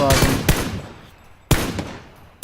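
Loud gunshots in the PUBG battle royale game on Xbox One ring out close, with one quick pair of shots and then single shots spaced about a second apart, each trailing off into reverberation.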